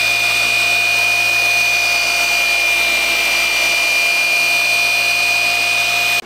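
A car paint polisher runs on a Honda Del Sol's paintwork, giving a loud, continuous high whine with a steady motor hum that stays even throughout and cuts off sharply at the very end, with no voices.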